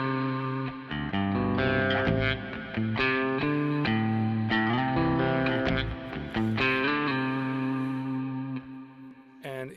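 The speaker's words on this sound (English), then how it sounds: "So especially with the cirrus reverb, I needed to do that." A baritone guitar played through a Kemper Profiler with a Cirrus reverb set to a long 3.7-second decay and wide stereo rings out in sustained, distorted chords and notes, with a lush reverb tail lingering behind each phrase.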